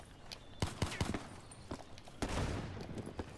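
Dual-wielded guns firing in Call of Duty Black Ops 3, with a few sharp separate shots followed by a denser burst of rapid fire, close and fairly loud.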